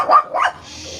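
A dog gives two quick, close barks in succession at a Trump flag wave gathering in St Armand's Circle, followed by a lower low-level background hum.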